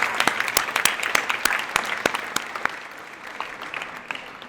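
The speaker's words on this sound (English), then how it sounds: "Can we get a round of applause for them?" Dinner audience applauding a quartet at a state capitol friendship dinner, a close burst of clapping with sharp individual claps standing out, tapering off over a few seconds.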